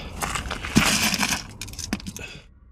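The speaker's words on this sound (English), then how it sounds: "Suddenly, the sound of smashing glass shatters the silence." Window glass smashed in a sudden loud crash inside an abandoned building, a burst of bright shattering debris over about two seconds that tails off into quiet.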